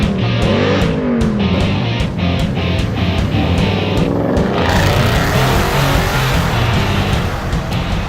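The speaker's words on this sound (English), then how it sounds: "then it opens the valves and you get a great V8 rumble" A V8 car engine rumbles steadily and loudly while driving, with a deep continuous exhaust drone, faint gear-shift changes and no speech over it.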